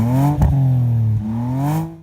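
A BMW naturally aspirated six-cylinder, its last big non-M atmospheric six, revs loudly and smoothly up close, its pitch holding and then climbing again before cutting off.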